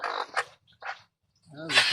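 A chicken clucks in short bursts close by, with brief pauses between, followed by a louder squawk alongside a human voice.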